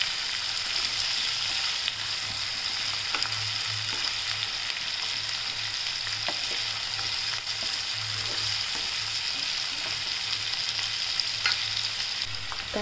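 Vermicelli and mixed vegetables for upma are sautéed in a pan, giving a steady, even sizzle of frying that runs throughout with faint scrapes of stirring, no voices.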